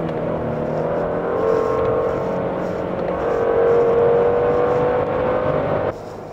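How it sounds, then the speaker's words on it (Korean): A Genesis G90 in sport drive mode accelerates hard, a smooth engine drone rising steadily in pitch inside the cabin, with muffled road and wind noise beneath and a brief dip near the end. "가속을 해보는데"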